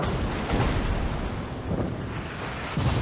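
Secondary guns on a warship in World of Warships fire in a dense, rumbling barrage, booming low thuds rolling one into another over a roaring wash of wind and sea noise.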